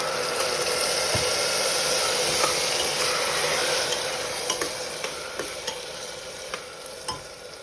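Water poured into a pan of frying spices for veg pulao sets off a steady, loud hissing sizzle, with a few faint clinks of a utensil near the end and no voices.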